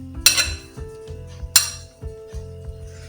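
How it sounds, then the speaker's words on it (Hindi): Sponge cake ingredients are mixed in a bowl with a utensil, giving several bright clinks and knocks against the bowl at an irregular pace, close and fairly loud. "अब मैं सारे इसमें डाल के मिक्स कर लूँगी।"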